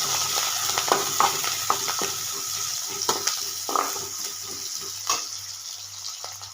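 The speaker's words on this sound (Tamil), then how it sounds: "வெங்காயம் பச்சை மிளகாய் கருவேப்பிலை மூணையும் போட்டாச்சு" Onion, green chilli and curry leaves frying with fennel seeds in a pan: a steady close sizzle with scattered pops and occasional stirring scrapes, no talk.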